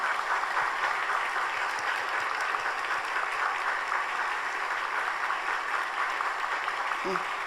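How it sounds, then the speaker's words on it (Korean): Warm, steady clapping from a church congregation welcoming a guest at an anniversary Sunday service, sustained and moderately distant throughout. "자리에서 일어나실 때 따뜻한 박수로 환영해 주시기 바랍니다"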